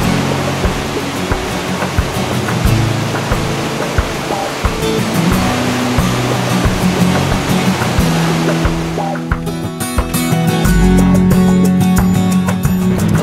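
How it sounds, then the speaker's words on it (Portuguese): A loud, steady roar of falling water from the 60-metre Montmorency Falls in Quebec fills the whole stretch, dense and unbroken, shifting slightly in tone near the end. "cachoeira de Monte Morreci, 60 metros de altura"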